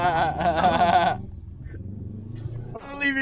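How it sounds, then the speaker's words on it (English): A goat gives one loud, wavering bleat up close, followed by a quieter gap and then the start of another bleat. "The goat."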